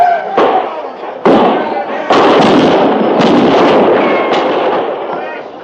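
Gunfire effects in a radio drama battle at Fort Laramie. Several sharp, loud reports go off in quick succession over a dense, steady roar of battle noise.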